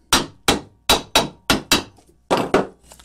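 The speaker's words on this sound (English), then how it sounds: "if we just hit it with a hammer" Hammer blows on a stuck part of a Wacker BTS 11 concrete saw: about eight sharp metallic strikes, mostly paired in a loose rhythm, loud and close, with no talking.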